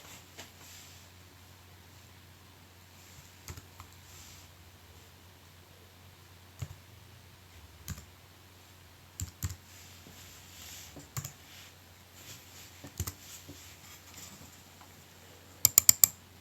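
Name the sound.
typing on a computer keyboard to name a patch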